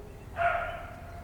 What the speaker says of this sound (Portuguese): Esse cachorro tá chato, mano.